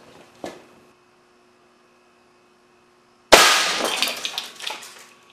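A glue stick launched from an air cannon at about 300 psi slams into the edge of a 25-inch CRT television, giving one sudden loud crack and a brief shattering clatter of debris after a near-silent wait and a faint earlier thump.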